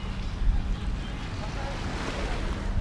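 Sea water washes in beside a seaside garden in Johor, Malaysia, making a continuous low rumbling wash mixed with wind buffeting close to the microphone.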